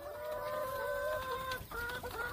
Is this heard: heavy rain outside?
no